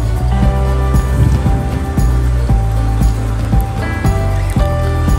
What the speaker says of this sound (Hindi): बाहर तो बहुत ज़्यादा बारिश हो गया